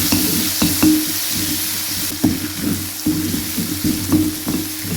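Crushed green chili, garlic and ginger masala frying in hot oil, giving a dense, steady sizzle with scattered crackles and faint stirring taps, loud and close, with no talking.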